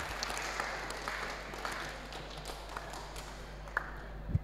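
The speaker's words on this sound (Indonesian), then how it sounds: "Tepuk tangan untuk SMP" Scattered applause and light taps from junior high students in a noisy school hall, fairly soft and steady, with a low hum underneath.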